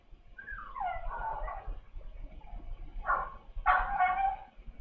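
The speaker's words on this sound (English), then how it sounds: "my dog's barking outside" A dog outside gives a few high, whining yips and whimpers, muffled and moderately distant, in short bursts over several seconds with no one talking.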